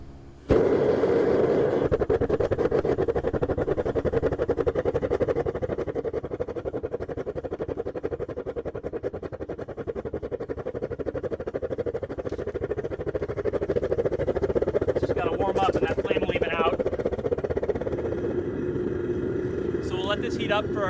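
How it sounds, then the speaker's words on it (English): Gas-fired foundry burner for lost-wax metal casting roars steadily and loudly as it heats up, a continuous rumbling rush that holds throughout, with a person talking over it near the end. "So our foundry's burning pretty well."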